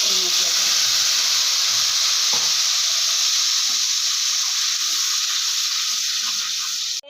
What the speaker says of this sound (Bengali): একটু ভাজা ভাজা হয়ে গেলেই প্রচণ্ড গরম ছিটে বাপরে বাপ